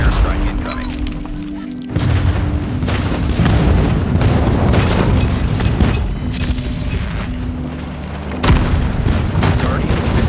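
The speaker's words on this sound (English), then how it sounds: "Friendly airstrike incoming." Airstrike explosions in a Call of Duty multiplayer match, heavy booming blasts rolling continuously with bursts of gunfire, under intermittent game announcer voice lines.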